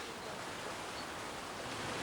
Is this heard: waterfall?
yes